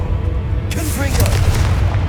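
A Confringo explosive spell in Hogwarts Legacy lands as a sudden, close, booming blast that flares sharply and then rumbles away over about a second and a half, with a voice partly over it.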